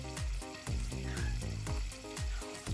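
Pona fish with shatkora frying in hot oil, a steady close sizzle with rhythmic low bubbling pulses throughout, no talk.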